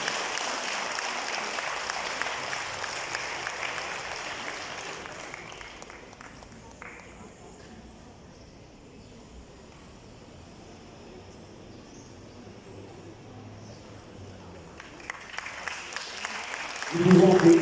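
An audience at a school prize ceremony in Mauritius applauds, a broad crowd clapping that fades to a quiet lull in the middle and then swells again near the end.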